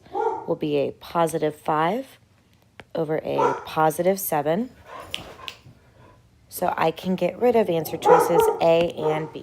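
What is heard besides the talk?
dog barking in the background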